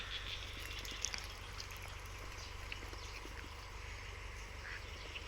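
Yi Liang egg-laying ducks, large males and smaller females, feeding in a pen, with scattered soft quacks and splashy water sounds over a faint steady background hum.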